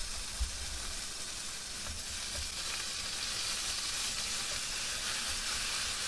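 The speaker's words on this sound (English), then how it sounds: "Let's have some thick cut bacon on." Thick cut bacon sizzles steadily on an induction hob at a camping setup, a continuous bright frying hiss with faint low crackles throughout, no voices.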